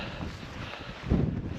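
Wind gusts across an exposed wild campsite on Dartmoor's Great Mis Tor, a steady close buffeting rush on the microphone that swells briefly near the end.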